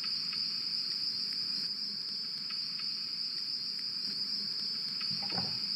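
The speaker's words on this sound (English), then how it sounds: "I'll place the second cricket sound effect" Steady, continuous cricket chirping from a sound effect in a Scratch project, a loud shrill insect trill that holds unbroken with faint clicking pulses beneath.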